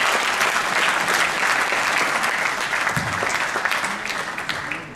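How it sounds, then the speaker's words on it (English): At the ICT Awards 2009 evening, a large audience gives sustained, dense applause for an honoree, loud and even, then tapering slightly at the end. "Can we please give the gentleman all the way in the back a very big round of applause?"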